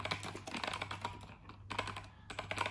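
Typing on an Apple Adjustable Keyboard with a faulty R key, a quick close run of clicking keystrokes, one brief pause, then more rapid key presses.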